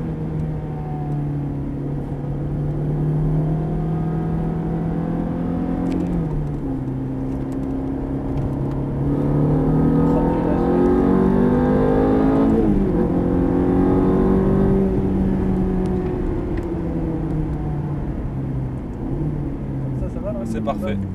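A Ferrari F430 engine on a race track runs at a steady, moderate drone with gentle rises in revs as it accelerates, never screaming, while people talk over it throughout.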